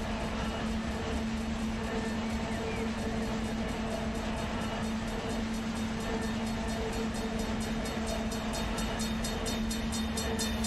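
A freight train shoving cars during local switching work in the Run 8 Train Simulator game: a steady, dense rumble and drone of locomotive and rolling stock with a constant engine hum, unbroken throughout and close.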